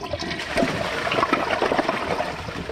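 A 2009 Kohler Wellworth Class 5 toilet flushes down 15 bottle caps, giving a steady rushing gush of water with gurgles, close and fairly loud, with no talking.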